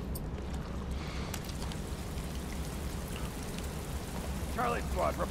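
Steady rain falls in the video game The Last of Us Part I, a dense, even patter throughout, with a brief voice near the end.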